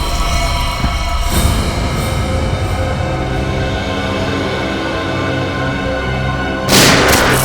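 Loud booming gunfire bursts over a constant rumbling din, with one blast early on and a heavy volley near the end.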